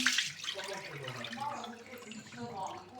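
Water splashes and swirls in a container as trout roe is rinsed, with a brief hiss at the start and faint voices underneath.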